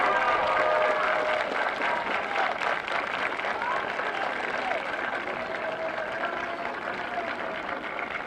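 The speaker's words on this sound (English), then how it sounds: "graduates, would you please thank your teachers with a nice round of applause?" High school graduates at a graduation ceremony give their teachers a long, steady round of applause, many hands clapping together in a large crowd with faint cheers.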